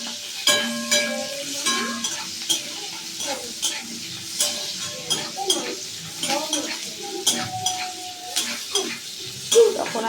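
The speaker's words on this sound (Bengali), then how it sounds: "এগুলো একটু ভাজা ভাজা হয়ে যাবে।" Onion, garlic and a green chilli frying in a pan, with soft sizzling under repeated scraping stirs and light clinks of a utensil against the pan, close and steady throughout.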